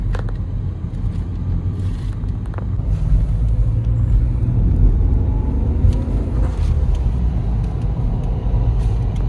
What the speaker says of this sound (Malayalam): ഇഷ്ടപ്പെടുന്ന വണ്ടി ആദ്യമായിട്ടാണ് ഓടിക്കുന്നത് സൂപ്പർ വണ്ടിയാണ്